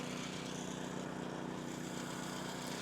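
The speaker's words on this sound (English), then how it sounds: "There's another shot with the power screed." A power screed runs on fresh concrete during a barn build, a steady droning small engine hum with a constant pitch, fairly faint and continuous.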